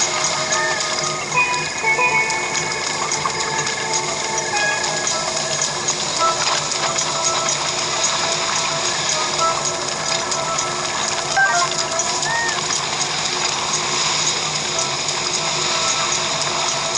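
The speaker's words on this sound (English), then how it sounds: "Okay, it wasn't raining before the blood moon." Steady rain in The Legend of Zelda: Breath of the Wild hisses evenly and continuously at moderate level, a dense wash of drops with no talk over it.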